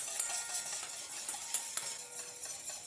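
Olive oil is whisked into a mustard vinaigrette in a bowl, giving a quick, steady, close clicking and swishing of the whisk against the bowl with no talk.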